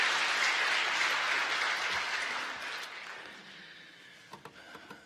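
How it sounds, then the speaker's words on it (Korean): Congregation applauding the choir at a Korean church's year-end Sunday worship service, a loud wash of clapping that fades steadily and thins into scattered claps near the end. "감사의 박수 한번 보내주시기 바랍니다"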